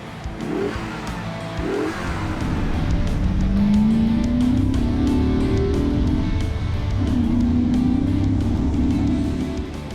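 A classic movie car of Knight Rider fame, engine running loudly nearby, with a steady roar that swells and shifts pitch as it revs.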